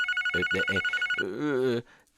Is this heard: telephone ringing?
yes